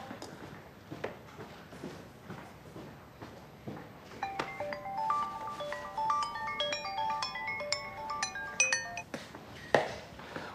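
A mobile phone rings with an incoming call: a bright, melodic ringtone repeats for several seconds, preceded by faint footsteps and light room noise.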